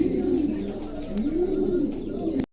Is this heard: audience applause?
no